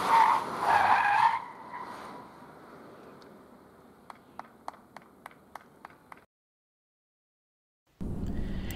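A 2023 smart #1 BRABUS electric car skids through a moose-test swerve and slalom on a test track, with a strong tire squeal at the start, then fainter squeaks and a series of short ticking sounds. After a silent gap, a low rumble returns.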